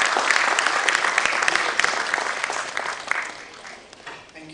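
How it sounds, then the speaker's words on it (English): Loud, dense applause from a conference audience at an international coatings and ink show, steady at first and thinning toward the end. "Can I please request you all to clap a little louder and welcome him?"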